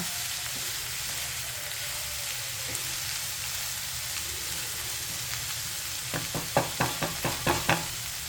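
Onions sautéing in a pan for a South Indian chicken uppukari, a steady close sizzle and crackle throughout, with a quick series of sharp spatula scrapes and taps toward the end.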